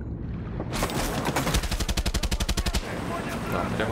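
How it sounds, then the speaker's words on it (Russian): Rapid bursts of gunfire in the video game Far Cry 6 during a ship capture, a dense automatic volley that rattles in a fast regular rhythm before fading into a steady noisy rumble. "Там прям активно идет стрельба."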